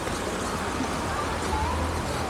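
Flowing water at Boriphat waterfall in Songkhla, running low over rocks, makes a steady hiss and burble with soft gurgles, continuous and fairly close, with a faint low hum underneath.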